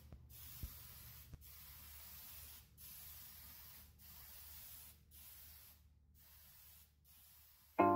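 Steady hiss of polyurethane finish sprayed from an aerosol nozzle, broken into several short bursts with brief silent pauses between them, close and moderately loud.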